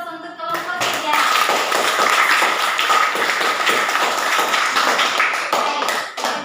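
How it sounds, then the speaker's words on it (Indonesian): A classroom audience applauds group 3 after their presentation: a brief voice at the start, then dense, steady clapping from many hands that carries on loudly for about five seconds before easing off. "berikan aplaus untuk kelompok 3"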